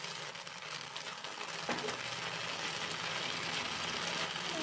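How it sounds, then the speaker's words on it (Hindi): Cashew paste frying in a pan, a steady quiet sizzle with a scrape of stirring near the middle and a soft continuous hiss throughout. "इसको हम 2-3 मिनट तक भूनेंगे। ये देखिए फ्रेंड्स, काजू का पेस्ट हमारा भून गया है।"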